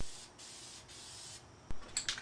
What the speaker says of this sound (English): for this small project, spray cans will work fine and make the cleanup a lot easier